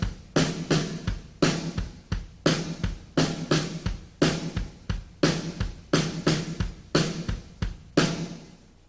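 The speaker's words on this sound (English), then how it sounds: "if I wanted to do a paradiddle between the two instruments, it would sound like this" Drum paradiddle split between snare/toms and bass drums, a steady run of sharp alternating hits with low kick thuds interleaved, close and loud with no talking.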